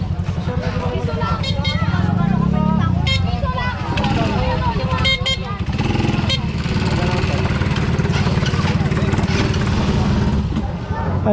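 A motorcycle engine runs and idles nearby with an uneven putter, while several people talk and chatter over it.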